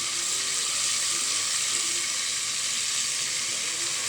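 Ginger and garlic fry in oil with black pepper, cumin and black cardamom for a dhaba-style urad dal, giving a steady, close sizzle that holds evenly throughout with no talking.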